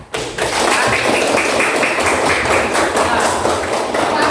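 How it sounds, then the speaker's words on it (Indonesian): A classroom group of students claps, with dense, rapid hand claps rising right away and holding steady at close range for several seconds. "Oke, kita aplaus buat kelompok Fikri."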